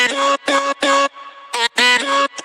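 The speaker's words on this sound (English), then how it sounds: "So the next thing the kind of next breakthrough I had was with the vocal chops." Chopped vocal sample from a party house track, short bright syllable bursts stuttering in a choppy rhythm with brief gaps, loud and up front.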